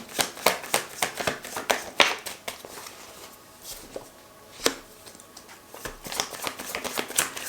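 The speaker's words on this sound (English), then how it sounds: "One more shuffle" Cards are riffled and shuffled repeatedly at close range, a rapid papery flutter with sharper snaps at times, continuing steadily.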